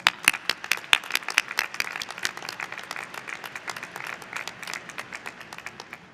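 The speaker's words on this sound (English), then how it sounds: "let's give your family, friends, and staff a round of applause" A graduation audience at a high school commencement gives a round of applause, many hands clapping in a dense, lively burst that starts strong and slowly thins out.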